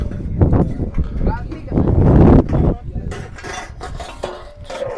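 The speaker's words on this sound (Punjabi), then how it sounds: "ਇਹ ਭਾਂਡੇ ਦੀ ਸੇਵਾ ਕਰਦੇ ਨੇ" Dishes and metal utensils clatter and clink close by amid a busy crowd at a Sikh shrine's communal kitchen, with people talking loudly over the handling.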